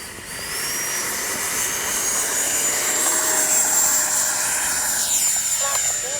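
An FMS 70mm F-18F V2 RC jet with electric ducted fan flies a short pass, a steady loud whine rising and falling as it sweeps past over constant outdoor air noise.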